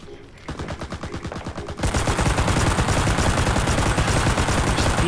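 A PPSh submachine gun fires in CRSED, a fast rattling automatic stream that starts lighter, then swells into a louder, denser continuous burst up close.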